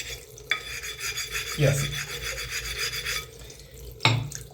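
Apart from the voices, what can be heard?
diamond sanding plate rubbing Belgian blue whetstone edges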